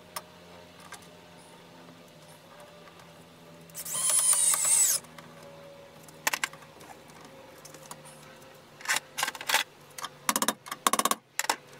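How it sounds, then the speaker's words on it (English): An insulated cable clamp is fastened to a garage wall with a power tool, a loud drill whirring for about a second, followed by scattered sharp clicks and clustered taps of hand work. "I'm gonna go clamp this to the wall here so it doesn't get pulled off accidentally."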